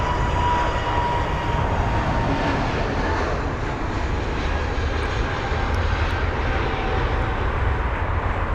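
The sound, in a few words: TAP Air Portugal jet moving at Heathrow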